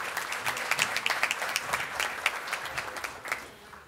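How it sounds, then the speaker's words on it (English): An audience at a red tide summit applauds a speaker being introduced, dense close clapping with irregular sharp peaks throughout, no talking. "round of applause for one of my favorite guys"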